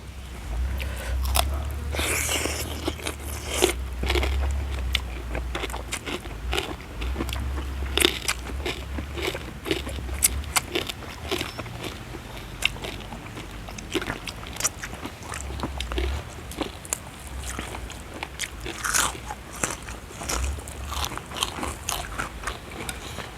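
Crispy pork skin bitten and chewed close to the mouth, loud repeated crunches and crackles in an irregular rhythm for over twenty seconds, no speech.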